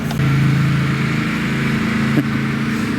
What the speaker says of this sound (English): Guy riding around with his lawn tractor with his kid in front